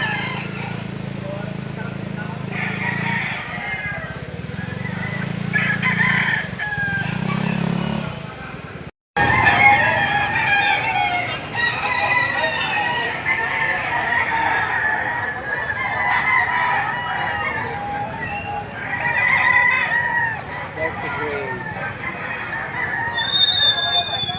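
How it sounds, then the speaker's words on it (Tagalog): Several roosters crow repeatedly at a rooster sale market, overlapping one another, with clucking fowl and a busy outdoor background; a brief gap near the middle, then more crowing. "yung mga nakaparadang manok dito"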